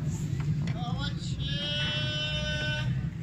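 A male goat at a livestock market in Gujrat, Pakistan gives one drawn-out, wavering bleat, close and clear, while people talk and market noise murmurs underneath.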